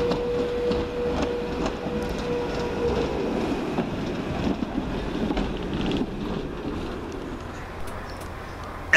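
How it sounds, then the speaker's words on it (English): West Midlands Railway railcar 139002 moves through Stourbridge Junction station, a steady rumble of wheels on rail with faint clicks and a thin squeal, fairly close and continuous. "139002 heads back to Stourbridge Town with the 1135 West Midlands Railway service."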